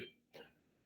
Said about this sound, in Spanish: me está agarrando tos